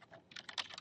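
Brief, quiet burst of typing on a computer keyboard as a git command is entered, a quick run of light clicking keystrokes within under a second.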